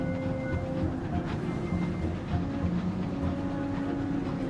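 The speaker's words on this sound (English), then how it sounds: "That was like a train in the background. A train on tracks rather than sky trains." A train rolls along tracks in the distant background of the Sunless Skies game, giving a continuous low rumble with faint clattering and a few tonal squeals, moderately quiet and without speech.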